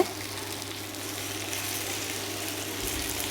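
Onions or vegetables frying and sizzling in a pan as part of a brinjal gravy before ginger and garlic go in, a steady close hiss that runs unbroken and without talk.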